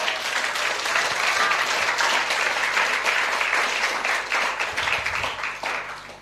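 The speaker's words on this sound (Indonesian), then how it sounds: "Beri tepuk tangan buat Tuhan." A church congregation gives God a round of applause during a sermon, many hands clapping in a loud sustained wash that eases off toward the end.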